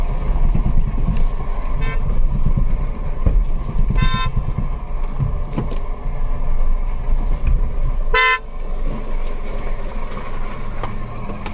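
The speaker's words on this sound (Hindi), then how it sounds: "अरे यार, ये पीछे गाड़ी आ गई भाई।" A vehicle pulls up behind on a forest road on the way into a tiger jungle, its horn tooting twice in short bursts over a constant loud engine rumble.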